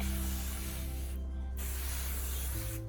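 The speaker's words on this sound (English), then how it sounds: "I'm also giving them a bit of a spray." Bursts of hissing spray from a hand mister misting mung bean plants on hydroponic trays, a few close squirts with brief pauses between them, fine and airy.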